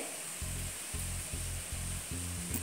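Prawns ghee roast cooking slowly in a covered pan over medium-low heat, a soft continuous sizzle under a low, rhythmic pulsing hum; quiet and steady.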